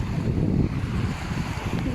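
Sea waves wash and churn near the shore, a low rushing surge mixed with gusty wind buffeting the microphone.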